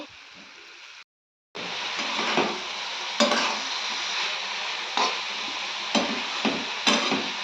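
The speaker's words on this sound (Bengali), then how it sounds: "আমি দিয়ে দিলাম লাউয়ের খোসাটা আর দুটো তারপর একসঙ্গে ভাজা হবে" Steady sizzling of onion stalks and bottle gourd peel frying in a pan, with occasional stirring scrapes and clatters; a brief silence near the start, no talking.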